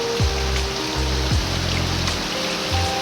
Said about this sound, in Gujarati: વરસાદ બરાબર ચાલુ જુઓ